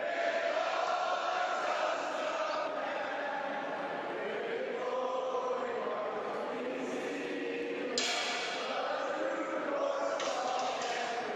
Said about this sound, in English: As the crowd has started to serenade.